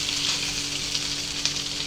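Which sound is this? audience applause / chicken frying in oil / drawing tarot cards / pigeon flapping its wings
chicken frying in oil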